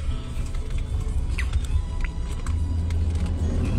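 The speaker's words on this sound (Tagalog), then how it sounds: "Kasi umuulan pa rin eh" Rain patters on a car driving at night near Mount Mayon in Albay, Bicol, soft scattered drops over a steady low road rumble and engine hum inside the cabin.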